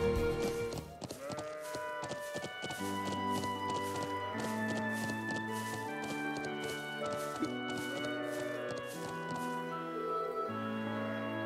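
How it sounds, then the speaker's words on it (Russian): A sheep bleats briefly in the role-playing game Trails of Cold Steel, heard over a bed of melodic game music with sustained tones and soft rhythmic beats. "Но это последняя овца."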